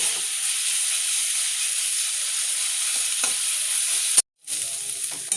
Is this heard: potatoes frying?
yes